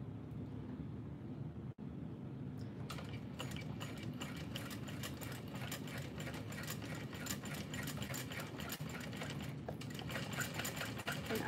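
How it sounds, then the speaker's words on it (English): Sewing machine stitching a bowler bag seam alongside the piping, a steady continuous mechanical whir with rapid needle rhythm running loud and close for most of the stretch after a brief quieter start. "I'm just sewing next to the piping, not like the actual piping, not like kissing it yet"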